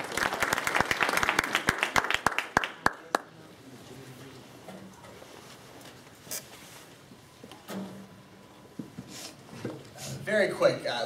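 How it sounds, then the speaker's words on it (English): Audience applause at a public speaking event, a burst of sharp claps in the opening three seconds that quickly dies away, followed by quiet room sound and someone speaking. "So let's, again, please give a great applause."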